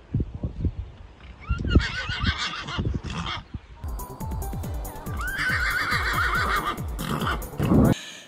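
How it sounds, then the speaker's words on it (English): A mare neighs and whinnies loudly, repeatedly, amid the bustle of a busy eventing competition, with hoof clip-clops and some voices around her. "She was neighing and shouting to everyone."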